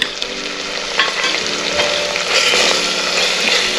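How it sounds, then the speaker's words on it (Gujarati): Green garlic sizzles loudly in an oiled pan for a Gujarati mixed vegetable dish, with a continuous close frying hiss and occasional scraping of a stirring spoon. "લીલું લસણ પણ આપણે સાંતળી લઈએ।"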